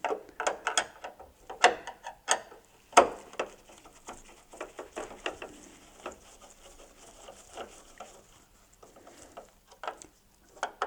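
Phillips screws being backed out of a Mitsubishi Electric GE25 air conditioner by hand, giving close, quiet, scattered ticks and scraping clicks with short pauses between turns.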